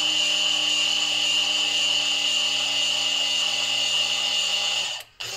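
A Reborn automatic citrus juicer runs with a steady, loud motor whine and strong high-pitched tones, then cuts out abruptly near the end with a brief click before a short resumption, with no talking.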